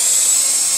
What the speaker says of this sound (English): So we're going to take our drill and we're going to drill it right here in the middle.